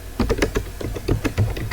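Quick, uneven keystrokes on a computer keyboard, close and clear, a short burst of typing with no voice.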